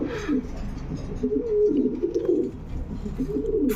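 Pigeons for sale, among them one with a bright red eye ring and beak, coo in low, rolling, throaty bursts close by, repeating continuously with no talking.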